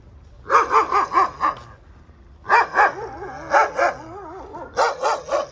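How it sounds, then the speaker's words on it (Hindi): A dog barks in three quick clusters of sharp, fairly close yaps, with short quiet gaps between the bursts, heard outdoors during a walk. "किसने भोका है"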